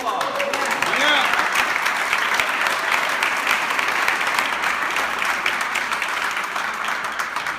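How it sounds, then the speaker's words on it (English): An awards-show crowd applauds loudly and continuously, many hands clapping together in a dense, sustained wash of sound. "Round of applause."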